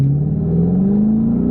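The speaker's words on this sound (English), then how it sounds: "Listen to that engine." A car engine revs up loud and close, its steady drone climbing smoothly in pitch across the whole short stretch, with no talk over it.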